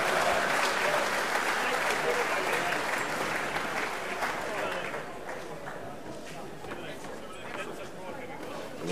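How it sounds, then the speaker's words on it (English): Crowd at the Golden Shears shearing competition applauding loudly, a thick roar of clapping that slowly thins and fades over nine seconds while an announcer's voice and crowd chatter carry on over it. "Give him a mighty round of applause as well as the rest,"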